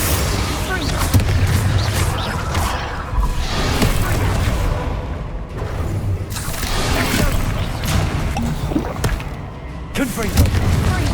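Repeated Confringo fire-blast spells from Hogwarts Legacy erupt in a loud, continuous barrage of booming blasts and crackling bursts during combat, with voices shouting over the chaotic battle noise.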